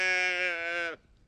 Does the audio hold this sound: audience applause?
no